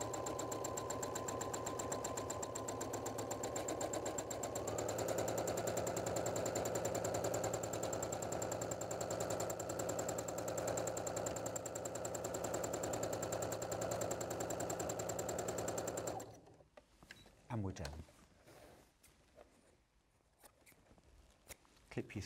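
A sewing machine runs steadily while stitching around a shape on a Halloween treat bag, a continuous whirring drone that shifts slightly in pitch before stopping abruptly, followed by faint handling noises.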